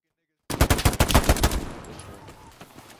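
Rapid burst of about a dozen gunshots in the console war shooter Hell Let Loose, loud and close, then a decaying echoing tail with distant battlefield noise.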